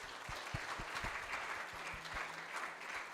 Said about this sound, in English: Let's give you a round of applause for Prabhu.